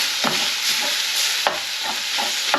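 Shakshuka fries in a pan with a constant bright hiss, while a spoon stirs and breaks it up in soft, regular scraping strokes roughly every half second, close by and without voices.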